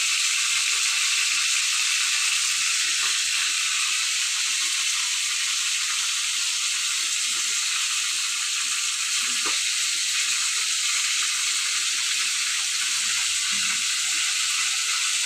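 Fish fry in a pan of hot oil with a loud, continuous sizzling hiss and faint bubbling crackles for the whole stretch, with no talking.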